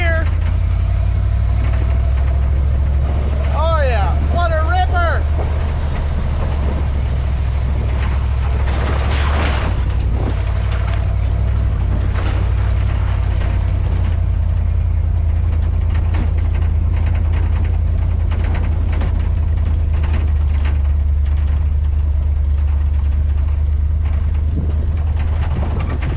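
A vehicle engine pulling in second gear, a loud, constant low rumble with intermittent clunks and rattles throughout; heard from close by, probably from inside the vehicle, with a brief squealing tone early on.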